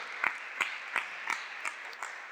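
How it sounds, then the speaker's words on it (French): Scattered, sparse clapping from a church congregation, a handful of separate soft claps spaced irregularly over a faint room background, fairly distant and quiet. "on peut applaudir Dieu quand il fait ce genre de choses."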